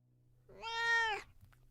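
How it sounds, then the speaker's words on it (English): A single clear cat meow, about three-quarters of a second long, close and distinct against a faint low background hum. "The sound of a cat almost had me laughing with relief."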